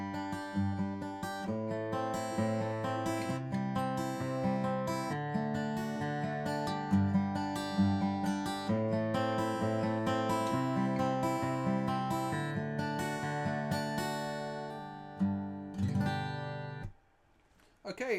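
Acoustic guitar fingerpicked in a basic PIMA pattern, clear close notes ringing in a steady repeating sequence over chord shapes, ending with a final strum and a brief fade.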